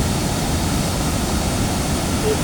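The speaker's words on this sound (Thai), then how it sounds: "น้ำตกลงมาตรงนี้นะคะ ของเขื่อนยางค่ะ แรงน่ากลัวที่สุดเลยนะคะ" Water pours over a rubber dam spillway in a public park, a loud, steady broadband rush that fills the whole moment without a break.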